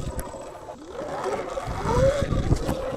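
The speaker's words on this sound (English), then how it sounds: "you can like feather the throttle now for a wheelie" A Surron Light Bee X electric dirt bike's motor whirs and rises in pitch as the throttle is feathered for a wheelie, a loud, steady whine that swells toward the end.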